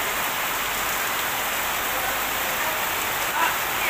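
Heavy rain pours onto a tin roof in a village, an unbroken, close, hissing rush of drops at an even loudness with no speech.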